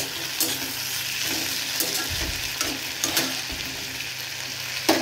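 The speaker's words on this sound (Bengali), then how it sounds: "আলু, পটল, বেগুন, কচু সব দিয়ে একটা ভাজা ভাজা তরকারি করব" Steady, loud sizzling of potato, pointed gourd, eggplant and taro frying in a pan, with occasional stirring scrapes and soft clicks, close up and without any voices.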